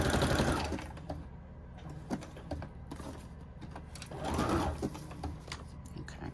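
A sewing machine stitches through a junk journal page, chattering in quick mechanical bursts that pause and restart, with softer handling noises between runs and faint background sounds nearby.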